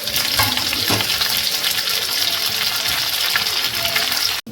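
Curry leaves hitting hot oil with dried red chillies and shallots for sambar, a loud, dense, continuous crackling sizzle heard close up that barely drops before cutting off.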